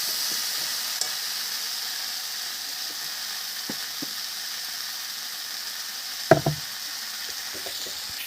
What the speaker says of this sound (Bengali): ভাজা ভাজা হয়ে গেছে, তেল ছেড়ে দিয়েছে।